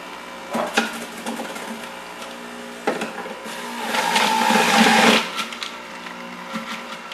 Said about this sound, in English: I'm just going to throw this in the juicer, turn it on